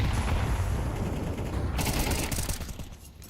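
A gunshot rings out in a competitive tactical shooter match on the Mirage map, a sharp burst over dense, continuous game noise, loud and close, with no talk.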